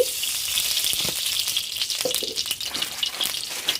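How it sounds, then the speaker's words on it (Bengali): Ghee heating in a wok gives a steady hiss and sizzle, fairly loud and close, with a few light clinks and no talk. "এবার কড়াইতে দিয়ে দেব ঘি"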